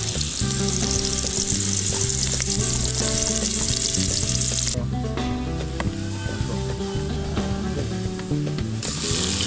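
Onions frying in a little oil make a loud, dense sizzle with stirring scrapes. The sizzle drops away midway and returns near the end, over a steady tonal background that sounds like music.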